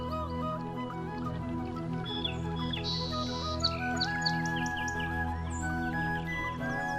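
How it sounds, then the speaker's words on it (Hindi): Many birds chirp and call together, clear tweets and whistles overlapping from all directions over a soft steady tonal background during a meditation session. "इधर पक्षी भी चारों ओर से आ पहुंचे हैं।"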